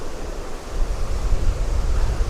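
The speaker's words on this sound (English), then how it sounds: "Oh blimey, there's suddenly a gust." Sudden outdoor gust of wind near a Lake District waterfall in Borrowdale, a loud broadband rush and rumble buffeting the microphone continuously, with no speech.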